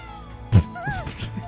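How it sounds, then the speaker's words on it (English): A cat in the video game Trails of Cold Steel IV gives a short, high, rising meow after a soft thump, with game background music running underneath. "Cat."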